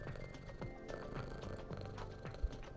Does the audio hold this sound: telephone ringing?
no